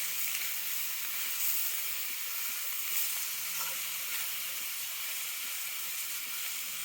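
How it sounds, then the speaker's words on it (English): Vegetables and onions sizzle in a pan over a campfire, a steady soft hiss and crackle heard close and alone, at a low, even level throughout. "we'll just cook that a little bit until the onions start to caramelize"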